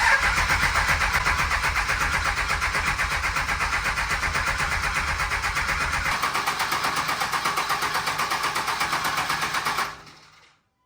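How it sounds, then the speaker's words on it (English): A 2nd Gen Cummins diesel engine cranks without firing during its first startup, the starter churning in a loud, steady rhythmic chug for about ten seconds before cutting off. "We're just gonna crank like 10 seconds at a time so I don't drain the battery or overheat"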